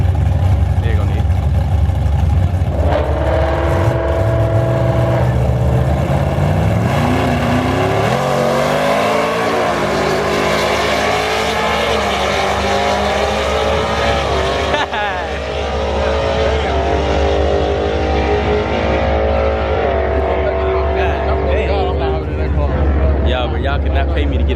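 Dodge Scat Pack with the 392 engine at a drag strip, a loud, close engine roar that revs and climbs through gears as it launches and pulls away, with spectators talking over it.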